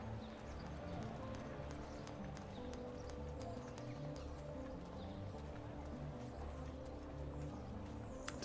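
Horse galloping in the video game Assassin's Creed II, a steady rapid clip-clop of hooves continuing throughout under a low rumbling game soundtrack, with faint bird calls.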